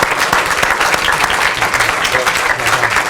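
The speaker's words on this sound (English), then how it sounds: "So I'd like to encourage you to applaud Mark for his years of service." A crowd at a heritage preservation awards ceremony claps steadily and loudly, a dense wash of applause that fills the whole stretch.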